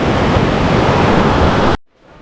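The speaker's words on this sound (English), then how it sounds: "the ocean's on her way back in." Ocean surf rolling in at Suluban Beach in Uluwatu, Bali, a loud, dense wash of breaking waves that fills the clip and then cuts off abruptly into a quiet, softer rush near the end.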